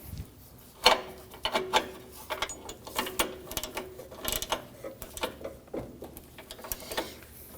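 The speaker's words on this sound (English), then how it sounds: "Tighten the O2 sensor until you feel the crush washer seat." A hand ratchet clicks in short uneven strokes while tightening an O2 sensor on a 2013-2015 Subaru Crosstrek Hybrid, close and moderately loud mechanical ratcheting with small pauses and no talking.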